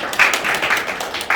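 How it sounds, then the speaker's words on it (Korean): A seated conference audience applauds the academic committee chair during an opening ceremony, giving a sustained wash of many hands clapping with slight swells and no voices over it. "감사의 박수를 보내주십시오"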